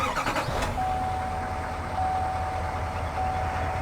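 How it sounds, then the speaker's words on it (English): A 2020 GMC Sierra AT4 pickup truck's engine turns over and settles into a steady, close, loud rumbling idle that continues evenly to the end. "So we're going to go ahead and start the vehicle."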